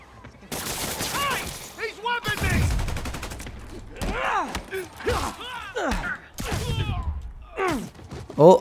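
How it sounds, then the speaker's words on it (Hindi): Gunfire aimed at Spider-Man in Marvel's Spider-Man Remastered comes in repeated loud bursts of shots mixed with whooshing, swinging action and impacts, dense and close throughout. "ये मुझे फिर गन से मारने लगा"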